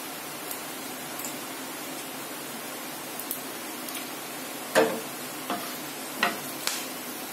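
Whole spices tempering in hot oil — cinnamon, cloves, bay leaves and dried chilli — give a soft steady sizzle with a few sharp crackles and pops near the end, close by and fairly quiet.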